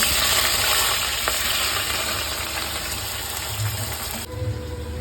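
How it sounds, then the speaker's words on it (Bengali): Boiled potato and pointed gourd frying in a pan, a dense, steady sizzle close by with faint stirring and a low background hum, cutting off near the end. "আলু পটলটা আমার ভাজা হয়ে গেছে"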